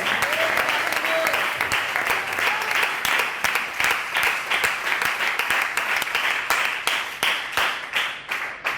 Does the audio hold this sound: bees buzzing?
no